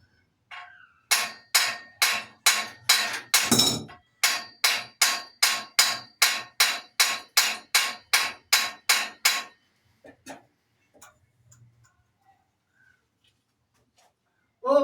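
Hammer blows strike a robust old Indian-made cycle-driven flour mill grinder in a fast, steady series of about twenty sharp metallic knocks, then a few scattered taps and quiet.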